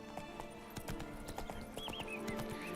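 Roach the horse trots with rapid, rhythmic hoof clip-clops in The Witcher 3, joined by a short whinny and faint background game sound.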